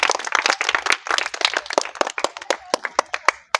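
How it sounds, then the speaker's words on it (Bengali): An audience claps loudly for a game-show contestant, dense applause at first thinning into scattered sharp individual claps near the end, with no talking. "তার জন্য সকালে একবার জোরে হাততালি।"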